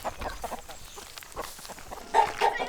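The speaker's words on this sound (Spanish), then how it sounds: "Ahora vamos a dar de comer a las gallinas." Hens clucking at feeding time on a farm, a cluster of short, close, overlapping clucks with a louder burst near the end, no one talking.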